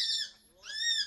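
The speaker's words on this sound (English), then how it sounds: "Craig, Jen, this is the sound of two parrots squawking." Two parrots squawk in a neighborhood in Columbus, Nebraska, giving two shrill, harsh calls separated by a brief gap, close and loud.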